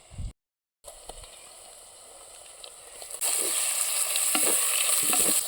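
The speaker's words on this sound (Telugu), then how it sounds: "ఎరగడ్లు ఎర్రగా కాగిపోయినాయి తరుగు పెట్టుకున్న టమాటా ముక్కలు వేస్తున్నా" Chopped tomato pieces go into onions already fried red in a pan for a prawn curry. A short crackle and sudden gap lead to a gentle sizzle that swells into loud, steady frying near the end.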